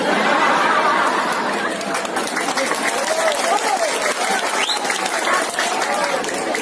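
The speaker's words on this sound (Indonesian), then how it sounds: "Tepuk tangan maksudnya naon?" An audience gathered for a religious celebration at an Islamic boarding school claps throughout, dense and continuous. A few scattered chuckles and murmurs mix in with the clapping.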